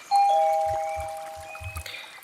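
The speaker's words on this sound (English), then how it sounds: "He hesitated for a moment before pressing the doorbell." A doorbell rings out a clear two-tone ding-dong chime close by, the bright tones ringing on and slowly fading, with a few soft low thumps beneath and no voices.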